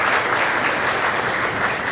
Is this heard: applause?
yes